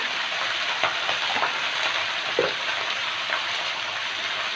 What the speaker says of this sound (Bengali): এক চামচ হলুদ দিয়ে দিলাম এবার ভেজে নেব তরকারিগুলো